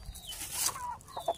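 Chickens clucking nearby, several short overlapping calls in a busy farmyard.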